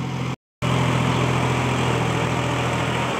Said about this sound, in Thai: ดูนี่ครับรถไถนิวฮอลแลนด์ครับ